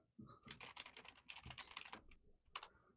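Someone types on a computer keyboard in quick, uneven bursts of clicking key presses, close and fairly quiet, with short pauses between flurries and no talking.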